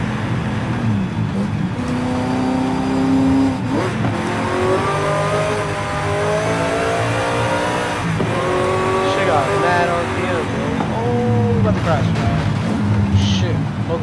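A Chevrolet Camaro Z28 in the racing game Forza Horizon 5, its engine loud and close, revving up through the gears with rising pitch, dropping on shifts, and with brief tire squeal, while a voice talks over it.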